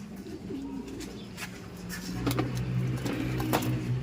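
Grown pet birds call with short chirps and soft coos, scattered across a few seconds over a low, steady engine or traffic hum in the background.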